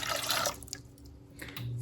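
Water is poured into gluten-free crepe batter made with melted butter, milk, eggs, flour, salt and sugar: a brief, fairly soft rushing splash that stops after half a second, leaving quiet room tone.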